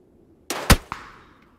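Two or three sharp gunshots in PUBG on PC, a loud crack followed by a fainter shot with a short decaying tail, standing alone with no talk.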